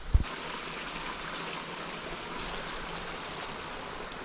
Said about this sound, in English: Just found this sweet waterfall